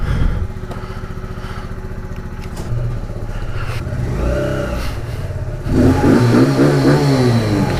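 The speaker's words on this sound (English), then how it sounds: "You guys will see me pulling up in my garage here in about 1 second" A motorcycle or car engine revs and rumbles close by while pulling up into a home garage, the tone rising and falling over several seconds and swelling louder toward the end.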